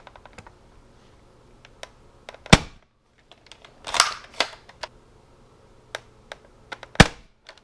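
Nerf Strong Arm revolver blaster, modified, fired across a chronograph: several sharp, separate pops spread out with pauses between them, plus a few smaller clicks and clatters of handling, with no talking.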